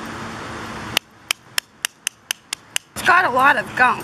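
A curling iron is struck against a rock to knock off baked-on gunk, giving eight sharp, evenly spaced knocks over about two seconds. Someone talks just before and right after the knocks.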